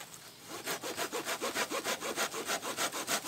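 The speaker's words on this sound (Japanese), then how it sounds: "ノコギリ今例えばこれもうちょっと切ってみますけど" A hand saw cuts through wood at a camping site in quick, steady back-and-forth strokes, about a dozen rasping pulses in an even rhythm, close and clear with no talk.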